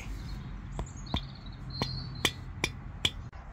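A mallet drives tent pegs into the ground at a campsite, giving about six sharp, moderately faint knocks spaced roughly half a second apart over a quiet outdoor background.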